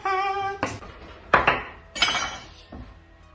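Chopped chili peppers with seeds left in are chucked into a metal pot for a jerk rub marinade, giving a series of four or five loud, ringing clanks and clatters close by.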